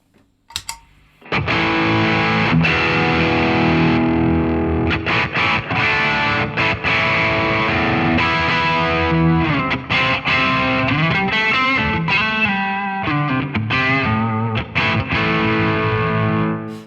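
An electric guitar played through a Boss Katana amp with the drive dialed all the way back still sounds gritty and distorted, with picked chords and riffs ringing steadily for about fifteen seconds and no voice.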